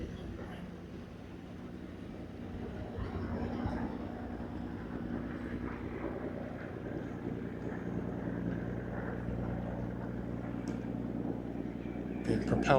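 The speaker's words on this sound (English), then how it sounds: "Being propelled by the might of a diesel engine." A small pleasure or fishing boat driven by a diesel engine motors along the tidal creek at Tollesbury in Essex, a low continuous drone heard under wind noise, holding steady before rising slightly near the end.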